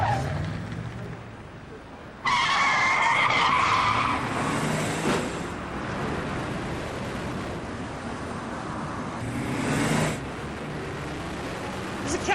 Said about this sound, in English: the stolen Range Rover careered towards the depot